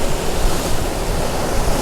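Loud, constant broadband rush of wind and ocean waves aboard a sailboat at sea on an overcast day, close to the microphone with no talk.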